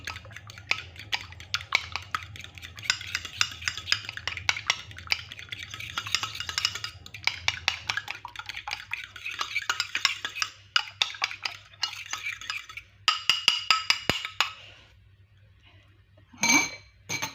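Two eggs beaten in a bowl with a utensil, a rapid run of light clinking strokes against the side that pauses and resumes, ending with a couple of brighter clinks.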